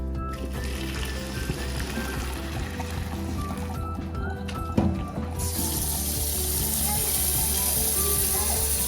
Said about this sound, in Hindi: ऊपर से ठंडा पानी डाल देंगे